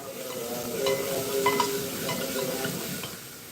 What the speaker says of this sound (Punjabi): ਥੋੜਾ ਆਪਾਂ ਇਹਨੂੰ ਹੋਰ ਭੁੰਨ ਲਾਂਗੇ